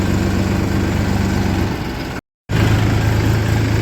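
A tractor pulling a trolley loaded with about 33 quintals of sugarcane runs with a loud, steady engine drone and a low throb close by, broken by a brief cut before the sound resumes, with no talking.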